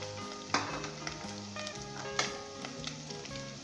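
Ginger and green chilies sizzle quietly in oil for a peas and carrot sabzi, a faint continuous hiss broken by a couple of sharper stirring clinks, with no voices heard.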